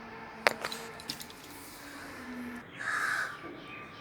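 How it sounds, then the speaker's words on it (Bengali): Crows caw in a quiet home garden with lemon trees, a few short, fairly distant calls early on followed by faint bird calls against soft background hush. "এই দেখো আবার পাখিগুলো ডাকছে"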